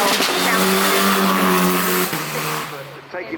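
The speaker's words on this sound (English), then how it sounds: "this sports car, a real collaboration between Aston Martin and Red Bull" An Aston Martin–Red Bull sports car climbs the hill at the Goodwood Festival of Speed, its engine note held loud and steady close by before dropping off as it passes.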